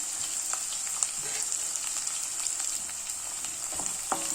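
Chopped onions sautéing in oil in a pan while preparing mutton liver varuval, a soft continuous sizzle with faint occasional spatters and light stirring clicks, fairly quiet and steady, with no voices.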